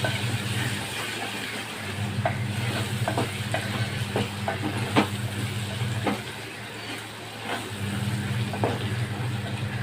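Garlic sautés in a pan for a garlic kuzhambu, giving a continuous close sizzle broken by repeated short scrapes and taps of stirring over a low steady hum.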